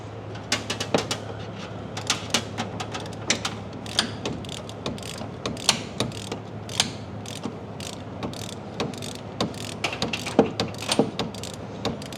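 Rapid ratcheting clicks of a torque wrench being worked up close, set to click at 25 foot-pounds, in repeated bursts over a faint steady hum, no talking.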